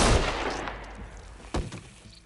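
Gunfire in The Walking Dead narrative video game, a loud shot at the very start followed by a second sharp report about halfway through, with dark dramatic ambience trailing between them.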